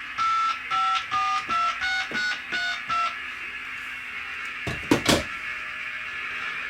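Phone keypad dialing tones sound through a Greenlee 200FP filter probe clipped onto a phone line, seven short evenly spaced beeps in a row followed by a couple of clicks and handling knocks.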